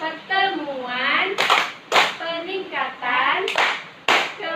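A group of women at a family welfare meeting breaks into short bursts of hand clapping, two sharp clusters per phrase, between stretches of sung or chanted speech.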